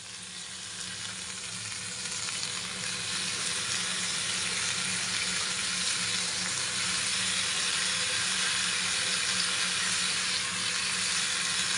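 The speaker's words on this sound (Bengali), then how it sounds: "এবার এর মধ্যে আমি আস্তে আস্তে মোচাগুলো দিয়ে দেবো।" Banana flower pieces dropped into a pan of frying spice mix, giving a loud, steady sizzle that holds constant throughout with no talking.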